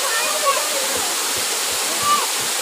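Waterfall roaring in a steady, loud broadband wash of falling water that holds evenly throughout, with faint voices now and then beneath the rush.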